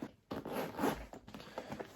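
A Louis Vuitton Damier Graphite Michael backpack zipper is pulled in a few quick, close, scratchy runs, the zipper teeth rasping in short bursts with brief pauses between.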